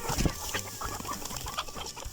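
Several hens cluck and murmur close by in a busy, overlapping chorus while waiting for feed, with soft rustling underneath throughout.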